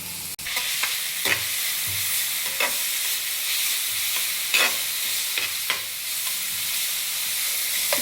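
Finely grated onion sizzles steadily in a flat pan, a constant bright frying hiss broken by repeated scraping stirs across the eight seconds, with no voices.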